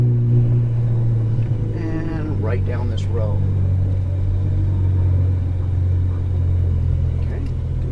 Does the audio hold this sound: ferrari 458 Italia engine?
yes